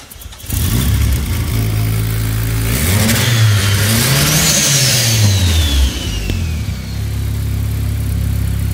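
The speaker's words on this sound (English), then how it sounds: "600 horsepower. Fire it up, Sean." A 600-horsepower Toyota engine at a SEMA 2017 press event cranks and fires, then idles roughly and revs up and down in loud swelling sweeps before settling back to a rumbling idle, close and dominant with no talk.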